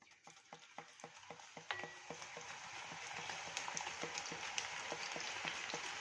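Raw banana slices drop into hot oil for chips, with a regular train of quick clicking strokes over a sizzle that builds and thickens as more slices go in.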